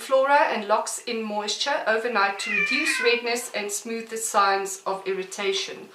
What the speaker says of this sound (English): Sorry for the cat, she decided to join.